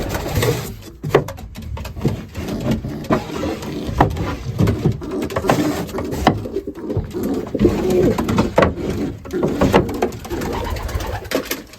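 Racing pigeons coo softly and repeatedly, close by, with wing flutters and shuffling in a loft.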